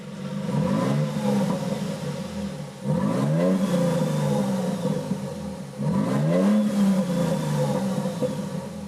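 A 2023 Toyota Sequoia TRD Pro hybrid engine revs repeatedly in three rising surges, its exhaust growling deep and loud, with a steady idle rumble between each burst.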